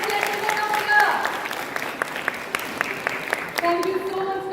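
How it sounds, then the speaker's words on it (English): Audience at an education symposium applauding, many hands clapping in a steady patter with scattered sharper claps, while a voice talks over the start and a tonal hum runs underneath. "Take a big round of applause for all the gentlemen of here."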